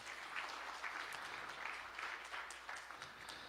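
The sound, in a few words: applause at a graduation ceremony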